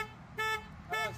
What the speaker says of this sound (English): You set off the damn alarm.